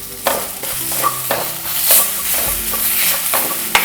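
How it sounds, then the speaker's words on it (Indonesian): Spice paste with lemongrass, galangal, lime leaves and bay leaves sizzles in hot oil for chicken opor, with a continuous fry hiss and repeated scraping stirs of a utensil, close and steady. "Kita tumis-tumis bumbu ini sampai panas."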